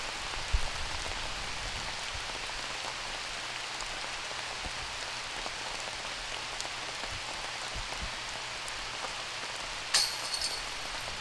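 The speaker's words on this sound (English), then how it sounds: "At this point, it's like raining really hard." Heavy rain falls steadily on a disc golf course during a tournament round, a dense, continuous hiss of drops on surfaces with a faint low rumble beneath, with a brief clink near the end.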